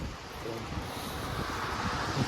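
Wind blowing outdoors on a cool, rainy day, a steady broadband rush and buffeting against the microphone that holds even throughout, with no voices.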